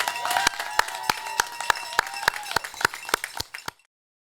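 Steady, evenly spaced handclaps ring out for a graduating high school senior, a sparse, close rhythm of sharp claps that trails off and stops.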